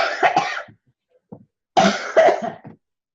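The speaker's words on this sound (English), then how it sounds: "Pardon me, I have to cough." Two loud bursts of coughing, about a second apart, each a rough harsh hack with a faint throat sound in the short pause between.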